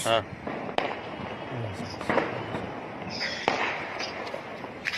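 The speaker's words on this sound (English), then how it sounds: "We got a guy who's lighting up a firework." Firework being lit and set off in a watched video, heard as a few sharp bangs and crackling bursts spread through the clip beneath ongoing talk.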